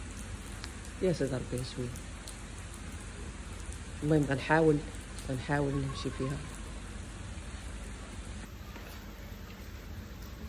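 Steady rain falls as a constant soft hiss throughout, while a voice speaks Moroccan Arabic in short bursts over it.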